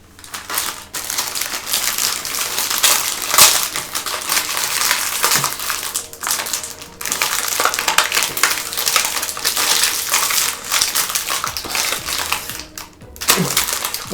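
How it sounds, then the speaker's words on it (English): Plastic packaging around a magic wand is torn and crinkled in bursts, with crackling, snapping rustles close up, pausing briefly between tugs and no talking. "there's a whole new level of packaging that I need to open"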